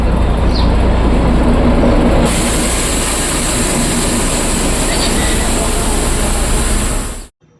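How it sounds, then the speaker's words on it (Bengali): A loud, steady rumble of a small train rolling past close by, wheels clattering continuously before cutting off abruptly. "তারপর আমরা সবাই মিলে টয় ট্রেন দেখার জন্য বাইরে গিয়ে দাঁড়াই"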